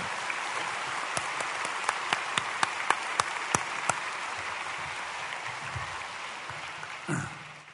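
A church congregation applauds during a worship service, a steady wash of clapping that holds evenly throughout, with a few sharper, louder claps standing out near the start.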